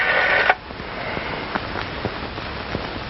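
A telephone number is dialed, a short burst of tones followed by a series of faint, evenly spaced clicks over a soft hiss.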